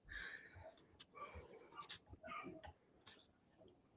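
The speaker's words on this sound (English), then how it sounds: "Can you hear my dogs? They're very excited." Excited pet dogs pant and whimper close by in a home, breathy huffs mixed with short whines and a clink, a voice murmuring underneath.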